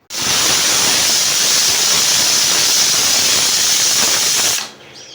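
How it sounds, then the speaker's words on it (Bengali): A pressure cooker boiling mutton with fried potatoes lets out a loud, steady whistle of venting steam for several seconds, then cuts off abruptly, leaving quiet room tone. "এবারে প্রেসারের ঢাকনা লাগিয়ে 4টে সিটি দিয়ে মাংসটা সেদ্ধ করে নেব"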